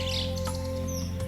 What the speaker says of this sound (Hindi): पक्षी चहचहा रहे थे